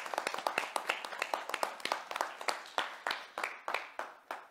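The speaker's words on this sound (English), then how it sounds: "Let's give that a round of applause." A small panel-discussion audience claps in scattered, distinct hand claps that thin out toward the end, fairly faint and with no talk over them.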